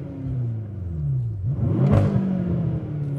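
A 700 bhp BMW M6 engine revs up loudly, pitch climbing and peaking before settling into a steady, rumbling drone close by.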